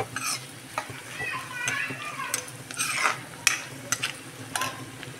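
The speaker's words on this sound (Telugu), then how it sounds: "కొంచెం ఎర్రగా వేగిన దాకా వేయించుకోవాలండి." Dried fish fry in a pan, a sizzling hiss broken by repeated scraping stirs of a spatula against the metal, with a voice faintly in the background.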